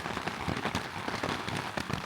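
Steady rain patters densely on a tent pitched on a mountain, a continuous close drumming of drops with no voices.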